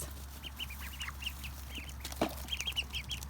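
Ducks call with scattered short quacks and soft chattering outdoors near newly hatched ducklings, faint and intermittent over a steady low background hum.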